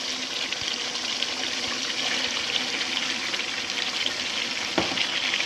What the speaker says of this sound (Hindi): कचनार को 5 मिनट मैंने भूना है